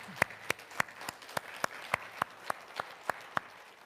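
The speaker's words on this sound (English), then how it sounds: "let's give them a round of applause" A small community audience applauds the hospitality team: sparse, evenly spaced claps, about a dozen in a steady rhythm, fairly quiet and close.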